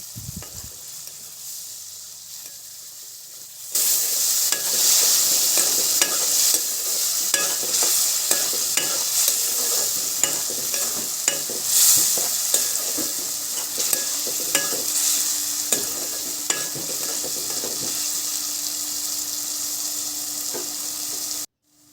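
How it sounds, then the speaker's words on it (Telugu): Tomato puree sizzles and fries in a pan with curry leaves and is stirred steadily, a loud continuous frying hiss with repeated scraping stirs, starting abruptly after a quiet moment and running alone without talk. "ఈ విధంగా మగ్గిన తర్వాత మిక్సీ పట్టుకున్న టమాటా ప్యూరిని వేసుకోవాలి"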